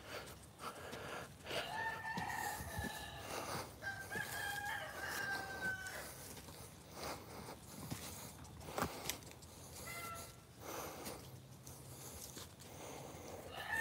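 Garden chickens crow loudly and cluck nearby, with a rooster's drawn-out call rising early on amid steady outdoor background noise.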